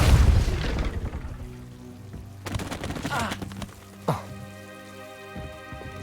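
A Depulso spell in Hogwarts Legacy goes off with a loud, forceful burst, followed by rattling debris, a second sharper impact and a lingering low hum.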